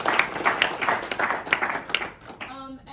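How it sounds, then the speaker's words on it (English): An audience applauds at a student internship-experience talk: a dense round of clapping with scattered sharp claps runs for most of the clip, then fades out near the end. "let's give a round of applause for"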